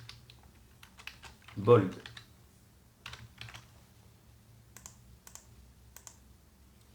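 Code being typed on a computer keyboard: sparse, quiet key clicks in short irregular bursts, with a louder thump near the start and someone speaking softly between the keystrokes.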